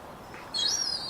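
A baby seagull lets out a single short, high, thin call, close by, over a faint outdoor hiss.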